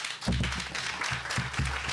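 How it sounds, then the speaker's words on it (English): Applause from the audience at a groundbreaking ceremony for The Lofts at Capitol Quarter, honoring the project team; steady dense clapping fills the short stretch, with low voices or a speaker's tones showing through underneath. "I think we should give this team a really big round of applause"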